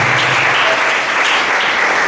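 Audience applause fills a hall at a youth project showcase, a loud, dense, even clapping that continues steadily throughout without any talk.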